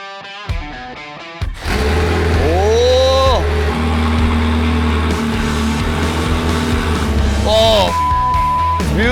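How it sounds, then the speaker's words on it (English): A Ferrari F40 starting up and running, its loud, steady, deep engine drone holding after a brief ignition, with a couple of rising revs and people talking over it. "Let's take it for a ride."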